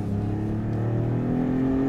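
A Maserati MC20 Cielo convertible drives along with its engine held in the middle of the rev range, a steady, fairly loud droning hum that climbs slightly in pitch, heard without talking.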